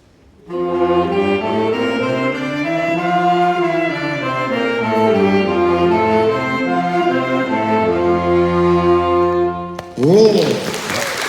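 Alto, tenor and baritone saxophones of a school band section play together in sustained, harmonized chords for about ten seconds, loud and steady, with a brief shift in texture near the end.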